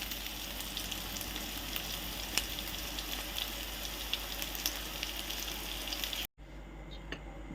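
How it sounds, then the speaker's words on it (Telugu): Onions frying in a pan for Telangana-style fish curry, giving a steady close sizzle that breaks off briefly near the end before resuming more quietly. "ఇలా ఫ్రై అవుతుంటే ఈ ఆనియన్స్ని"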